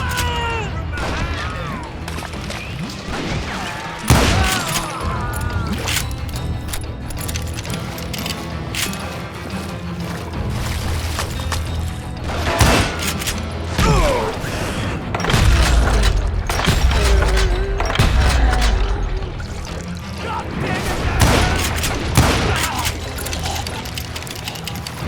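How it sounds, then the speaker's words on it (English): Repeated gunfire and booming impacts in the Western shooter Call of Juarez: Gunslinger, a steady barrage of shots rattling down from above across the whole stretch, loud and dense with scattered heavier blasts. "a fusillade of bullets come raining down from on high"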